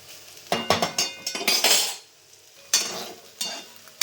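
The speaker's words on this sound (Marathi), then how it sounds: "सोयाबीन मी आता फ्राय करून घेते बघा ब्राऊन होईपर्यंत त्यांना फ्राय करायचे" Soybean chunks being fried in a little oil in a pan, with loud metallic stirring clatter and sizzling in several bursts, a short pause in the middle, then more scraping.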